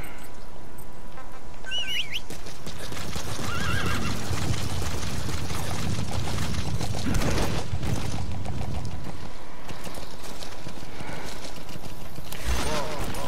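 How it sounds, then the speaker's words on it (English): D-Horse in Metal Gear Solid V: The Phantom Pain whinnies and gallops over a steady game soundscape with chirping birds, hoofbeats rumbling through the middle and another neigh near the end. "Let me call the day horse."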